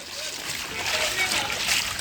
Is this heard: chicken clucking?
no